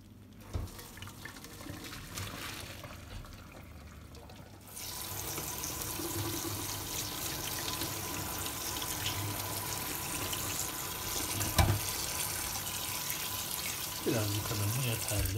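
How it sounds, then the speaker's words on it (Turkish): Boiled spaghetti being drained into a strainer in a home kitchen, a steady rush of pouring hot water splashing into the sink that starts abruptly and runs on for several seconds, with faint clinks near the end. "Şimdi bunu süzeceğiz."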